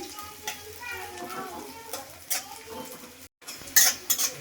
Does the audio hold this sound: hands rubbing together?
no